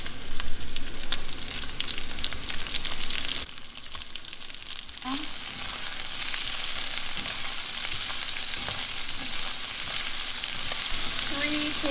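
Vegetables sizzling in a hot pan for Korean spicy pork belly, a loud continuous crackling fry with a brief dip before the sizzle surges back and holds steady, with occasional stirring sounds.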